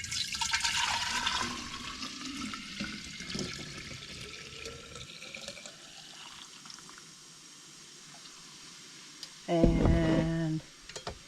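Homemade kombucha is poured into a container in an Alaska bush home, gurgling and splashing loudly at first, then settling into a quieter trickle, with a brief louder burst near the end.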